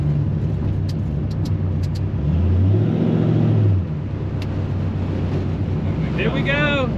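A 1978 Ford F150 pickup, lowered on air bags, rumbles close by through a U-turn while cruising, its engine note rising and swelling mid-turn before settling, with wind buffeting and people talking over it.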